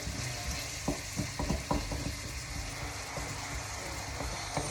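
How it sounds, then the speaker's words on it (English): Softened, translucent vegetables fry in a wok with a steady background sizzle and hiss, broken by a few sharp clicks and scrapes of stirring in the middle of the clip; there is no talking. "Now, these are getting quite soft and translucent at this moment in time, as I'm frying these off in a wok."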